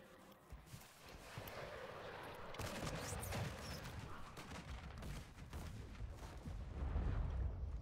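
Bombing explosions in a video game, a dense stretch of low rumbling blasts and rattling gunfire that builds louder toward the end, with no clear talk.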